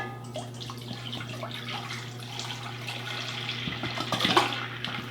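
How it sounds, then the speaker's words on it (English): Raw milk pours into a pot of citric acid water in a home kitchen, making a continuous, moderately loud liquid splashing and gurgling that swells toward the end, over a steady low electrical hum. "pour my milk into the pot with the citric acid water"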